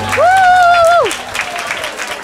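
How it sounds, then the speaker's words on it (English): Audience members at a group dance session clap loudly for themselves, with a bright sustained whistle or whoop over the opening burst before the applause eases off. "Give yourselves another round of applause."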